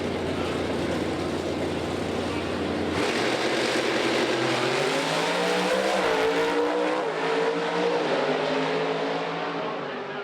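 Pro Stock drag race cars launching at the NHRA Indy Nationals, a loud roaring engine blast that rises in pitch through rapid gear changes and then recedes into the distance.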